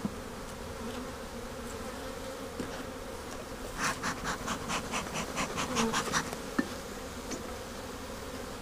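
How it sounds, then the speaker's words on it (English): Bees buzzing in a long hive colony after a few frames were added, a steady close hum that swells with louder wingbeat bursts midway, with a brief murmur of talk. "They got some more room to grow."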